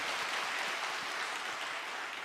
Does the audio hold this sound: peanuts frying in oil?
no